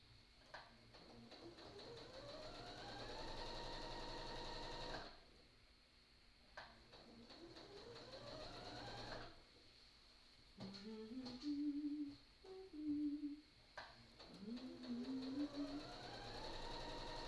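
A sewing machine stitching a slouchy tote bag in the round, running in long steady whirring stretches that stop and restart, with shorter stop-start bursts near the end as the fabric is adjusted. It sounds fairly quiet and no one talks.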